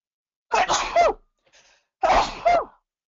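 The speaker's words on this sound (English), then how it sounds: "I have to sneeze, pardon me." Two loud, close sneezes, each a sharp double burst, separated by a brief quiet breath, with silence around them.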